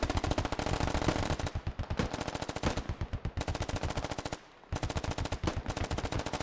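Automatic gunfire rattles in the video game Squad, dense rapid bursts of shots with a brief pause before the firing resumes, loud and continuous.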